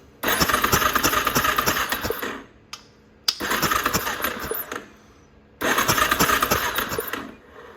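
A Yamaha Warrior ATV engine with no spark cranks over three times in a row, each burst of rapid mechanical churning lasting about two seconds, separated by short pauses, close and fairly loud.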